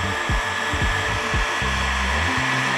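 A heat gun blows a steady, loud whirring roar while heating vinyl wrap on a Toyota Tundra tailgate, with a few low thumps and shifts in tone as it is moved around.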